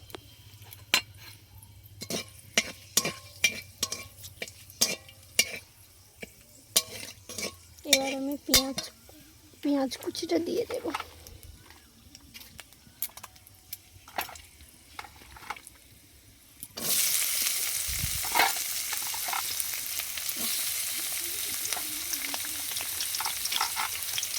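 Bay leaves and dried red chillies dropped into hot mustard oil in a kadai: scattered clinks and taps of utensils, then a sudden loud, steady sizzle of frying in the latter part, close by.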